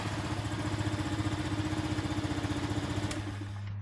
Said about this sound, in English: It's a Honda, these things run forever. Just gonna let it idle for a couple minutes.